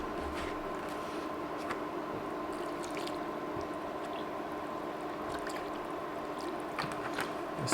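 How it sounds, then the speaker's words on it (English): Milk pours steadily into a pot of corn chowder with potatoes and bacon, a continuous soft liquid rush and gurgle lasting throughout, with no talking. "we're going to just go ahead and add enough milk to cover this by about an inch"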